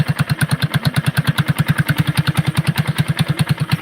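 Motorcycle engine idling with the idle raised, a loud, close, steady chugging of fast, even firing pulses that continues throughout with no voices.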